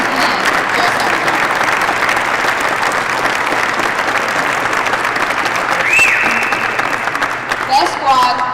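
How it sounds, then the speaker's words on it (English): Sustained applause from a large audience at a military awards ceremony for Army aviation best squad and drill sergeant of the year, dense and even throughout, with a faint electronic chirp near the end. "please join me in another round of applause"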